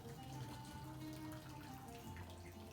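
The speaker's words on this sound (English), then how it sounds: "Pour your boiling water." Boiling water poured into a cooking pot of potatoes makes a faint, steady, continuous splashing stream that lasts the whole stretch, with no voices.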